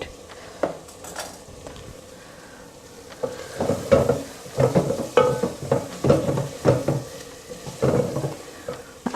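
Potatoes are fried with mutton in a pot, a soft sizzle under repeated scraping and clanking stirs that grow louder and busier partway through.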